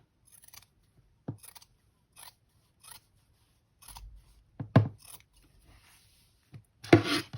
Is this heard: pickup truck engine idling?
no